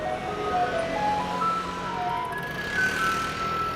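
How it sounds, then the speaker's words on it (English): A garbage truck rolling through a street in Taiwan plays a classical tune, usually Für Elise, as a thin, faint melody of single notes drifting over steady low street and engine noise. "special garbage trucks drive through the streets playing classical music"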